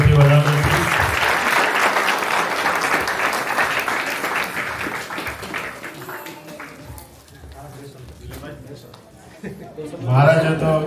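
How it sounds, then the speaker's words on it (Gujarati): Applause from a crowd at a Ganesh aarti gathering in Leicester, a dense burst of clapping that thins out after several seconds and rises again briefly near the end, with people talking over it. "બધા તાળીઓથી વધાવો."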